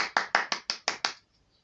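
A single person claps seven times at a brisk, steady pace, close and crisp, then stops into near silence.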